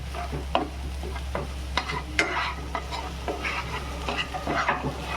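Ground masala paste (vatan) for a stuffed kantoli dish is stirred and cooked in a little oil: scattered scraping and stirring clicks over a soft sizzle and a steady low hum, with no talking.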